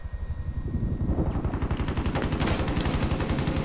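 Automatic gun firing in a video game, a rapid steady stream of loud shots that starts sparse and builds into a continuous burst running to the end, with no talk over it.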